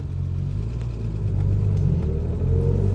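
A 1970s Triumph GT6 sports car cruises along, its engine giving a steady low rumble heard from inside the cabin, swelling slightly partway through with no talking.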